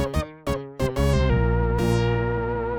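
A layered beat of bright synth lead over piano chords, opening with a few sharp stabbing hits before settling into a full, sustained harmonic texture.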